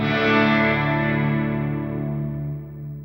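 A sustained, washy guitar tone through a reverb effect at 100% wet mix on an HX Stomp XL modeler, its harmonics ringing and slowly decaying with no dry attack, alone and fairly loud.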